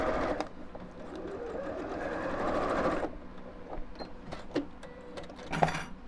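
A sewing machine top-stitches a purse with a pearl bead handle: one steady run of stitching for about three seconds, then short bursts and clicks.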